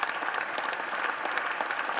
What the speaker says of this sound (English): They all have to keep clapping until someone stops it.